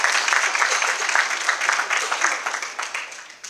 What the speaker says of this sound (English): give him another round of applause on that